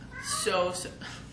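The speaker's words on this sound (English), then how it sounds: "my cat has been so supportive of me. He meows all night long" A male house cat meows close by in a single drawn-out, wavering call that rises and falls over about a second.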